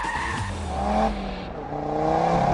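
A four-wheel drive Audi TT RS is thrown sideways with the handbrake, its engine note rising and falling while the tyres scrub and squeal in a short slide, heard fairly close with no talking.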